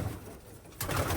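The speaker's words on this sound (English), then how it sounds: "This is an older pigeon." A two-year-old pigeon in a loft during moulting season gives a soft, low coo that swells up near the end of the short moment, close by against a dusty, rustling background.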